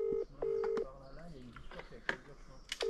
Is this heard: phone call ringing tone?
yes